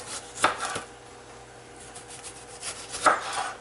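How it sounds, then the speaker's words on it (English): A knife cutting a tomato into quarter-inch slices on a board for an eggplant dip, two distinct soft chops separated by a quiet pause, close and gentle. "I'm going to slice the tomato."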